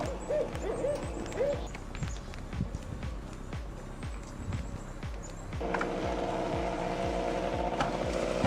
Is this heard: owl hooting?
yes